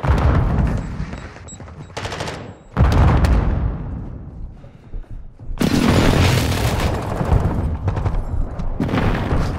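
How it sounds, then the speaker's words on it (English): Friendly airstrike explosions in Call of Duty Modern Warfare, loud heavy booms and bursts of rapid gunfire arriving in dense waves, with brief near-silent gaps between the blasts. "Friendly airstrike in the AO."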